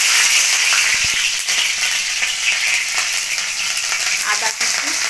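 Chopped green chilli hits hot oil in a pan, a loud, steady sizzle and crackle with occasional sharp pops and stirring scrapes, no talking.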